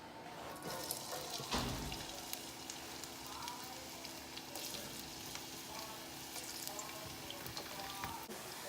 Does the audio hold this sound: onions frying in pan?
yes